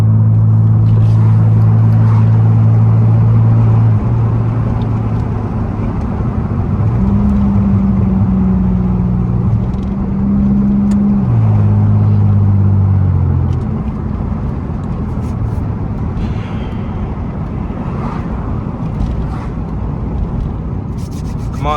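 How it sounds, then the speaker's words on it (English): Pontiac Grand Prix GT with a deleted muffler drones loudly from inside the cabin, the engine note stepping up and down through downshifts and revs over a constant road rumble. "Hold on, I'm about to downshift."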